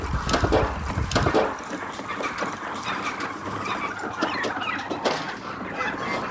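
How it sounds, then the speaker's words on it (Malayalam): A flock of turkeys on a Kerala turkey farm, roughly 150 birds, clucking and gobbling in a dense, continuous chorus close by, with overlapping calls and rustling throughout and no talking. "നമ്മുടെ ടർക്കി ഫാം നിങ്ങളെ ഞാൻ കാണിച്ചു തരാം"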